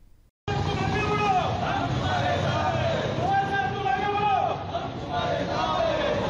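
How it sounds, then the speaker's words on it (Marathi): A lively crowd of party workers shouts and cheers together in celebration in Kankavli, a dense wall of excited voices rising in waves, close and loud throughout. "शपथ घेतल्यानंतर कणकवलीत अभित नाईक यांच्यासह कार्यकर्त्यांनी जल्लोष केला आहे."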